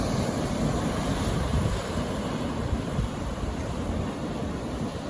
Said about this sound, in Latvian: Nu, viļņi ir superīgi, ko jūs tur bremzējat? Fantastiski viļņi.